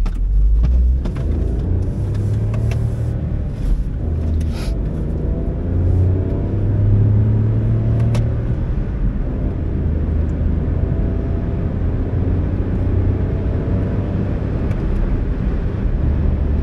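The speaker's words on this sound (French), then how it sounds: "je voulais vous laisser entendre un peu le son du moteur" Small three-cylinder engine of a 2009 Smart Fortwo droning steadily from inside the cabin while driving on the road, with low rumble and road and wind noise throughout, no talking.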